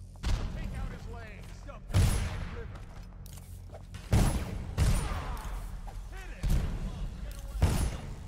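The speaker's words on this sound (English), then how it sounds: "that grenade and it just went boom" Loud explosive booms and bursts of gunfire from the video game Dishonored erupt repeatedly, with shouted voices and game chatter between the blasts.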